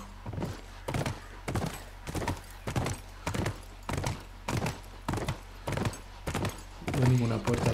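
Horse hooves clip-clop in The Last of Us video game, a steady run of about a dozen evenly spaced, fairly close hoofbeats with no talk over them.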